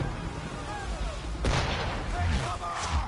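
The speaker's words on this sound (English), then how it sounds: "I'm going to use the swivel gun only to take out the ships" Swivel gun fire against ships in Assassin's Creed III, a sharp blast near the middle followed by another crack later, over a noisy game background with a voice faintly present.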